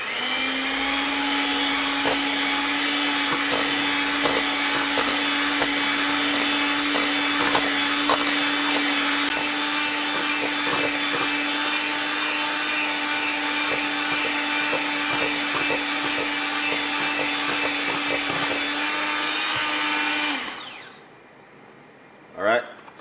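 Electric mixer whisking banana cake batter, a steady loud motor whine that runs continuously for about twenty seconds, then cuts off abruptly.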